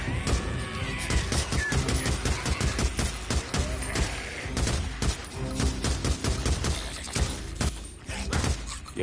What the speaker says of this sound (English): Yeah, don't need to be going mad on the gunfire here.